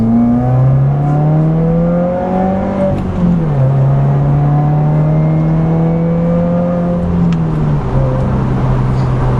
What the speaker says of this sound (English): a quick second gear rolling start